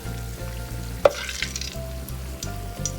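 Egg rolls, freshly wrapped and not frozen, fry in hot oil with a steady low bubbling sizzle and one sharp pop partway through, close and unbroken, with no talk.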